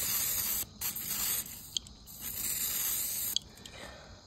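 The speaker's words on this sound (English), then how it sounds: "So right now I'm going to spray them with some WD-40." A WD-40 aerosol can sprays in a steady hiss onto an 1800s oak table's rollers, stopping briefly and restarting in several bursts, with a few faint clicks between them.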